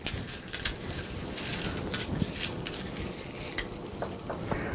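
Garlic cloves rattle and shake inside a regular lidded jar, a steady rough clattering with scattered sharper knocks, moderately close and fairly quiet.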